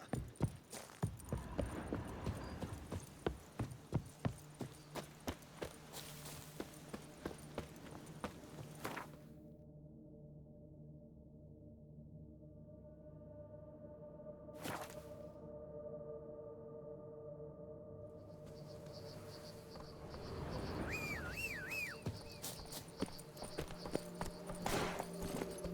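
Horse hooves from The Witcher 3, Blood & Wine, a rapid rhythmic clip-clop of galloping that fades into a quiet stretch of ambient tones and then picks up again with light hoofbeats near the end, no talk.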